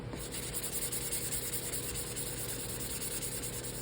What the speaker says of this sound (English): I always like to sand in between coats anyway, so the epoxy has something to grip to